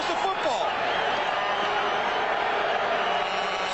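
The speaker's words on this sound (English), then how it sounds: "Calgary partisan crowd urging their defense" A partisan Calgary stadium crowd at a Grey Cup football game roars steadily for its defense, a dense, sustained wash of cheering and shouting with no break across the clip.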